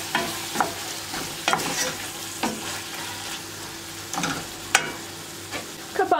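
Chicken sizzles and fries in a pan as a few spoonfuls of water go in, giving a steady close crackle with scattered sharp pops and stirring clinks, no voices.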